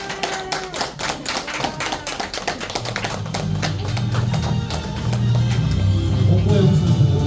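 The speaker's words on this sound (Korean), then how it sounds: "오늘 귀한 걸음 해주신 우리 청년부 앞에 나오실 때 큰 박수로" A church congregation claps to welcome a youth group coming forward, a dense run of overlapping claps and taps close by, with low murmuring underneath that swells toward the end.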